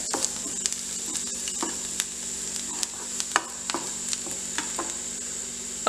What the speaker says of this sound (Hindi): गैस हमने हल्की रखनी है, इसको हमने हल्का सा सॉटे कर लेना है ताकि ये गोल्डन ब्राउन हो जाए।